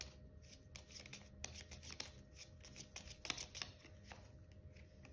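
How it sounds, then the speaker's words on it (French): Tarot cards being shuffled and drawn, a quiet close run of quick riffling flicks and papery slaps in a rapid, uneven rhythm. "On va aller te tirer une dernière carte, un arcane majeur."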